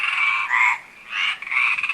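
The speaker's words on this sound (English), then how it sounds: "It's a frog." A frog croaks in loud, close, raspy trills, two sustained calls followed by a stuttering burst, with nothing else around it.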